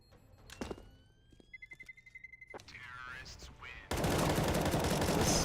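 Gunfire in Counter-Strike: Global Offensive during a competitive match, a sharp shot followed by a rapid burst of rifle fire, then a loud sustained blast of noise near the end, with commentators talking over it.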